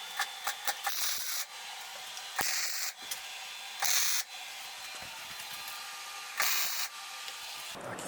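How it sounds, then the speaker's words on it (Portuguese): Nuts are tack-welded onto a Hi-Lift jack mount for a Jeep, giving four short, sharp crackling bursts spaced a second or two apart over a softer background hiss. "Eu vou soldar essas porcas aqui, vou dar um ponto de solda nelas"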